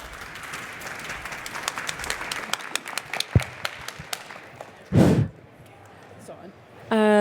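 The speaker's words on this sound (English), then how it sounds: "please do join me in giving our speakers a very warm round of applause" Audience applause at an artist spotlight event welcoming two speakers, a steady patter of clapping under faint talk, followed by a brief louder burst and a return to quieter room sound.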